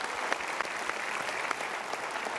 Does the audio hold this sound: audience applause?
yes